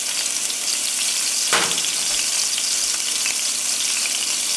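A burger patty crackles and sizzles in hot oil, a constant close frying hiss with a brief sharper burst near the start.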